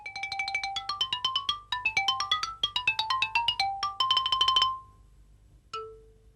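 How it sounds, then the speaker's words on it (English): A xylophone plays a fast run of crisp, wooden struck notes that rise and fall, each with a sharp attack and quick decay. A brief pause follows, then one last isolated struck note, all close and clean. "This is an A played on the xylophone."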